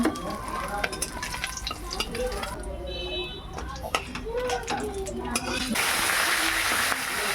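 A second batch of rohu fish pieces frying in hot oil in a pan, a continuous close sizzle with crackling spatters that swells louder near the end, mixed with a few metallic kitchen clatters and some background voices.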